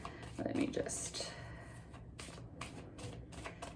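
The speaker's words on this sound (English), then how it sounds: "shuffle the cards one more time, Cassandra." Tarot cards are shuffled softly in quick riffling bursts, close and quiet, with faint murmuring speech in the background.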